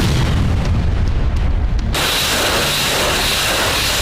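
Russian rocket and missile strikes exploding during an assault on Ukrainian positions in Donetsk, heard as a loud, continuous rumbling roar of blasts that shifts abruptly midway into a steady hissing wash.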